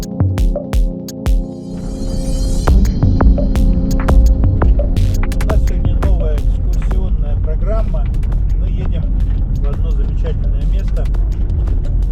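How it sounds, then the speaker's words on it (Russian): A heat cannon heater runs in a garage doorway as a heat curtain in freezing weather, making a loud, continuous droning hum with a throbbing edge while someone speaks over it. "на время открытия мы как тепловую завесу включаем вот такую пушечку"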